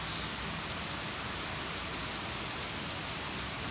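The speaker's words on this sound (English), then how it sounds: "This rain has just been hammering." Heavy rain hammers down in a dense, unbroken roar of drops on surfaces, steady and enveloping for the whole stretch with no voices.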